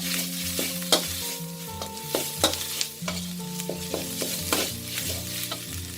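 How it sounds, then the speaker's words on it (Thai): Kaffir lime leaves are dry-roasted in a pan for a pork-rib chili curry, with repeated scraping stir strokes and light crackling over a steady musical background. "เดี๋ยวจะใส่ใบมะกรูดลงไปค่ะ คั่วพร้อมกันนะคะ"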